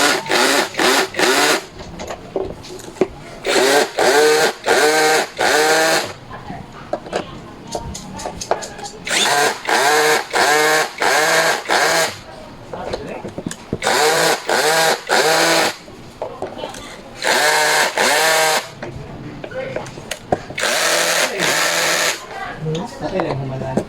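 A power drill tightens bolts while an office chair is assembled, running in repeated loud whirring bursts of a few seconds each, separated by short pauses and ramping up and down in pitch.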